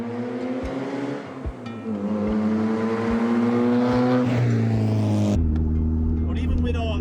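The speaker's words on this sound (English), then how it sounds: "The exhaust is loud." Mazda MX-5 project car with a loud exhaust driving and revving, the engine note climbing through the gears with rhythmic thumps from the road, a sharp shift near the end, and a voice talking over it.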